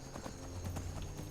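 Horse hooves clip-clopping steadily along a road in Skyrim's Dawnguard mounted combat, a repeated rhythmic trot at moderate distance with a game ambience beneath.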